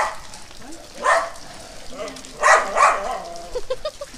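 A dog barks a few times during a family outing to a hidden waterfall, with a couple of louder barks close together and fainter ones after, mixed with people's voices.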